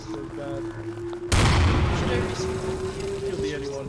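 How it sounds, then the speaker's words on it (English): Explosion in Garry's Mod, Star Wars game mode: a sudden loud boom cuts in over a steady game hum, then rolls off into a long rumbling decay. "I died from the explosion."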